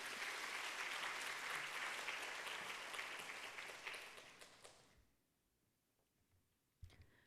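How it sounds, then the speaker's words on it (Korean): A church congregation at a Sunday afternoon service applauds to welcome the preacher, a dense roomful of clapping for about five seconds that fades out into near silence, followed by a single faint knock. "박수로 맞이하도록 하겠습니다"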